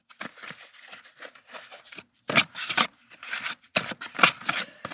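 A deck of playing cards is shuffled in several bursts of crisp riffling and snapping, close and fairly loud, with brief pauses between passes and no voice.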